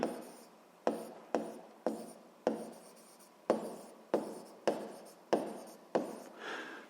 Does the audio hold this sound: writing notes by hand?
yes